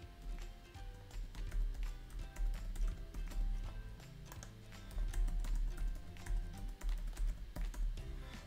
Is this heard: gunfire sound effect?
no